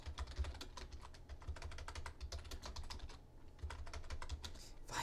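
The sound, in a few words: typing on a computer keyboard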